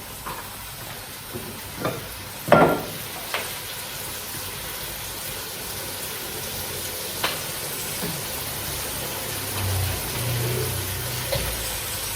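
Mushrooms frying in butter in a pan, a steady close sizzle and hiss with a few clunks and scrapes as they are stirred.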